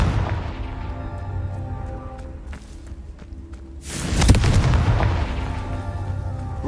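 A Confringo spell explosion in the Hogwarts Legacy video game bursts out loud and booming partway through, after a quieter stretch of low rumbling and scattered thuds.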